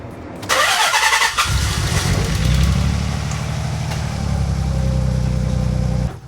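A car engine cranks briefly and catches, firing loudly, then settles into a steady, rumbling idle that runs unbroken to the end, close by, during a radiator upgrade in a garage.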